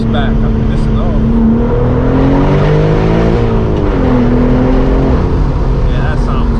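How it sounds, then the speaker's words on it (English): A BMW M4 G82 manual fitted with a titanium catback exhaust revs loudly and steadily, its engine note rising and falling close by over several seconds, with people talking over it. "see what a catback only exhaust system sounds like on these cars"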